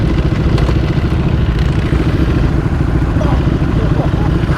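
Ducati Panigale V4 engine running close by with a dense, rough low rumble and rapid pulsing, steady and loud throughout.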